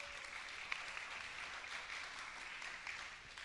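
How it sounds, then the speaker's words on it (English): Applause from an audience at a community session launch following a performance, steady and fairly faint throughout, sounding distant with no voices over it. "Can we give them another round of applause"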